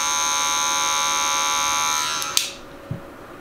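Andis Master Cordless hair clipper buzzing loud and steady with a high-pitched whine close to the ear, then switched off with a click and a soft knock as it stops.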